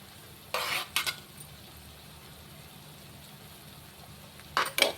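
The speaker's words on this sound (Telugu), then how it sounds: "వేసుకొని ఒకసారి ఇట్లా కలుపుకొని వేగనిద్దాం." Deep-fried okra and curry leaves stirred in a hot pan, a quiet background sizzle broken by a few loud scraping stirs near the start and again at the end.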